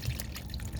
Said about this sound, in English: we're going to go ahead and put in, I say, about 2 cups of water